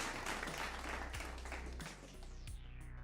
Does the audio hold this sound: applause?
yes